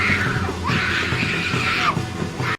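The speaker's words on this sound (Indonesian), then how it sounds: "berteriak-teriak dan meronta-ronta" A person screams and thrashes in a film scene, with loud, strained wailing cries that rise and fall continuously before cutting off abruptly.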